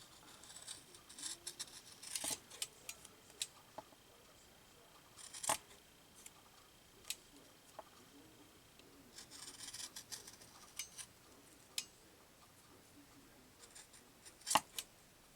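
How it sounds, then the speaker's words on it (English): Scissors snip through twill tape in a crafting setting: scattered, crisp cuts and short rustles spread across the stretch, moderately close, with quiet gaps between and no talking. "if I do it, I'm going to have to cut it down"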